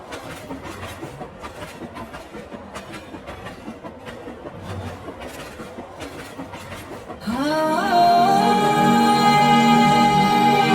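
An intercity express train rattles and clatters along the tracks as it departs a station, then a loud, sustained horn blares and holds until the end.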